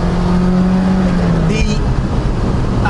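The two-litre Opel engine of a 1988 Opel Manta GSi hums steadily with a low droning tone, mildly revving, while a person talks over it.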